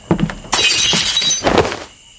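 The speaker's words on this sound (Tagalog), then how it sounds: "Naku, nabasag ba? Sorry, nasagi ko ata. Ano to? Flower vase?" A flower vase knocked over and breaking in a dark room, a couple of dull knocks followed by a bright, crashing shatter of glass, then a second burst of tinkling shards before the sound dies away, loud and close.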